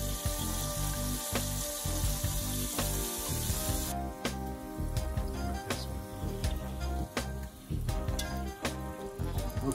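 Calamari deep-frying in a pot of hot oil, a steady dense bubbling sizzle running throughout with scattered sharp crackles and pops, loud and close.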